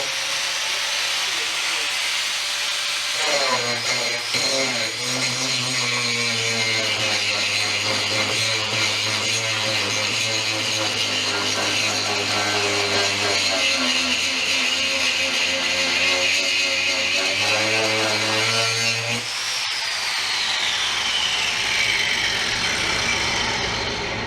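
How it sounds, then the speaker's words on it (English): A Fein WSG8 115 angle grinder grinding a weld off a steel plate, a loud, close, continuous whine with shifting pitch as the disc bites, lasting about fifteen seconds before spinning down. "I'm going to grind this weld off and make this plate smooth again"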